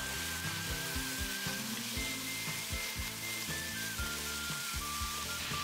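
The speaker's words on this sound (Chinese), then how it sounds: "炒出香味后，再加入少量的生抽和老抽翻炒" Scallion, ginger, garlic, chilli, cinnamon, star anise and bay leaf stir-fry in a wok with a splash of light and dark soy sauce for braised pork ribs. A steady, hissing sizzle runs throughout with rhythmic background music underneath.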